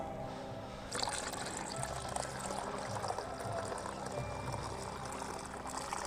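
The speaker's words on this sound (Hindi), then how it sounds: "तो अब मैं इसको देखिए पानी के साथ इसमें मिलाता हूँ।" Liquid fertilizer is being mixed with water in a container, with a steady pouring and swishing splash that runs continuously at close range, nobody speaking over it.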